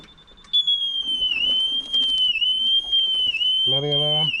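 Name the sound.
alarm beeping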